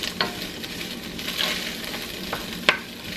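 Onions and garlic frying in a pan, a steady low sizzle with a few brief stirring clicks and scrapes spread through, close by and moderately quiet, with no talking.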